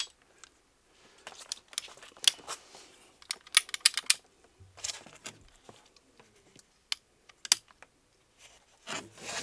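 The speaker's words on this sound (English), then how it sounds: "Let's go ahead and cut that with a pipe cutter." A pipe cutter snipping through PEX pipe during an outdoor faucet replacement, heard as a series of short, faint crunching and rasping bursts with quiet gaps between them.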